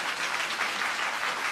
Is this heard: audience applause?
yes